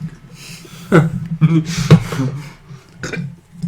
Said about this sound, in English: You didn't have to burp on the podcast.